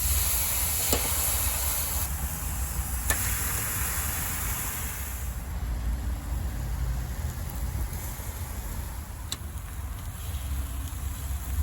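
Marinated eye of round steak over hot coals on a barbecue, giving off a steady broadband hiss and sizzle with a few sharp pops, close and continuous.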